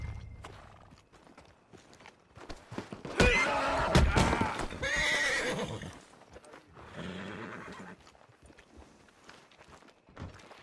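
A horse in Red Dead Redemption 2 gives a loud, close whinny, then another shorter neigh, with hoof clip-clops and shuffling around it; no one speaks.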